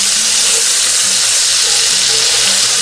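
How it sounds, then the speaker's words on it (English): Brunswick stew ingredients sauté in a Dutch oven over a fire. A loud, close, continuous sizzling hiss runs throughout, with no voices. "We're going to give these a stir around in here."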